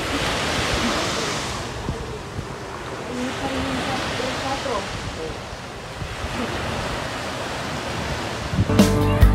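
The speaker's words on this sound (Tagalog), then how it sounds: "Pakinggan ninyo ang hampas ng alon." Continuous rushing surf with waves breaking and washing in on a Zambales shore, broad and steady, with wind buffeting the microphone and a clattering noise at the end.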